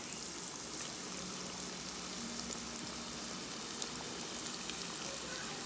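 Chickpeas coated in cornflour drop into hot oil and fry, giving a steady, close sizzling hiss with fine crackles and bubbling throughout, with no talk over it.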